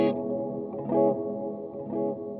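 Digital delay from a Matthews Technician delay/reverb/looper pedal on an electric guitar: sustained chords swell in a few times with repeating echoes trailing behind them, moderately loud with no voice over it.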